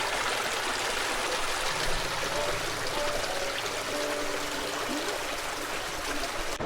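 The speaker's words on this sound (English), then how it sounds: "the sounds of the Shyok River and birds chirping" Shyok River flowing through Turtuk in the Nubra Valley, a constant broadband rush of water close by, with faint bird chirps and a low murmur threaded under the steady flow.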